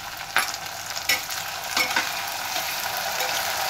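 Onion and tomato frying in oil in a pan on the stove, a steady close sizzle broken by a few sharper stirring scrapes and clicks, with no voices.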